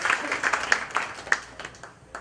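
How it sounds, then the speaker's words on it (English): Audience applause at a live comedy mind-reading show, a brief patter of clapping from a modest crowd that swells and then thins out, moderately close, with no talking. "Give this gentleman a round of applause as it goes back to the audience."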